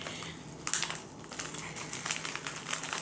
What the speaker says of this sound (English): Okay, so lift here to open the bag.